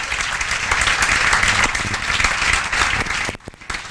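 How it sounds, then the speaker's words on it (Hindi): Class 11 students applaud in a classroom, a dense, loud burst of many hands clapping together that carries on steadily, then cuts off abruptly near the end with a few scattered claps after. "तो इसके लिए तालियां बजनी चाहिए।"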